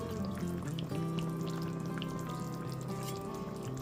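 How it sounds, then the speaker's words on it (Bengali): A light pabda fish curry broth with potato and eggplant simmers in a pot, giving a faint, continuous bubbling and popping close by, with no voices. "আর এখানে ঝোলটা খুব ভালো মতো ফুটে গেছে"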